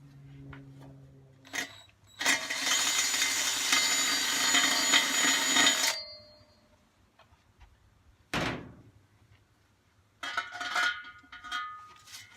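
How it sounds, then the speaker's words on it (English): A power drill whirs loudly and close for about four seconds, drilling a hole for a knife-making forge build, with scattered clunks and knocks before and after in a quiet room. "drilled a hole through here"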